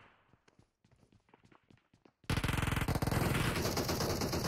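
Rapid automatic gunfire from a PUBG firefight, a loud sustained burst of close shots following a few quieter scattered taps and footsteps.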